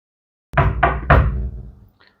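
Three firm knocks on an apartment door, close and loud, evenly spaced in quick succession and then left to ring out briefly, with no voices.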